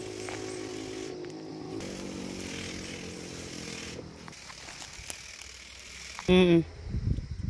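A motorized sprayer runs while spraying coffee plants on a farm, a steady buzzing engine drone continuing for several seconds, then easing off before a brief voice and rustling at the end.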